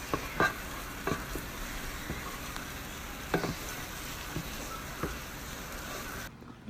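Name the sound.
tomato paste and garlic frying in a pot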